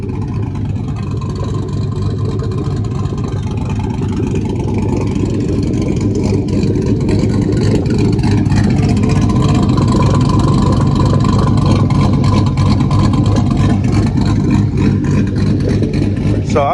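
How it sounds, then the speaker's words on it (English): Lowered, cammed single-cab pickup truck with a carbon muffler in place of straight pipes, engine idling with a deep steady rumble and rising into a sustained rev partway through, loud and close. "Show you guys what the carbon muffler sounds like."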